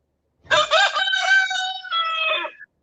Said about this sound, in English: about that rooster crow in the background?